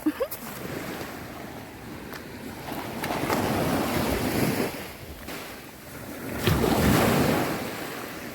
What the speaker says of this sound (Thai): ว้าว ทะเล